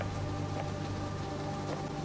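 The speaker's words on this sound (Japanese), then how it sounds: "雨降ってますね" Rain falls steadily in a horror video game set at an apartment building, a dense continuous patter with a low background hum and no voices.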